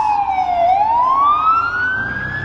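A loud wailing fire truck siren sweeps down then climbs steadily upward in pitch, close by at a roadside accident scene near Cannon Beach, with faint road noise underneath.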